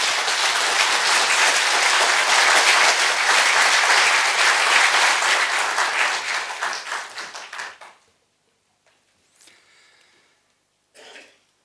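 Loud, dense applause from a large crowd at a political forum welcoming Moon Jae-in for a keynote speech, carrying for several seconds, then tapering off into near silence with a couple of faint stray sounds.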